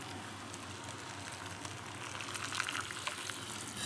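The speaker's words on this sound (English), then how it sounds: "Then you put the hot water in the soup." Hot water pours steadily into an instant udon noodle cup with a soft splashing rush, close and continuous, growing slightly louder toward the end.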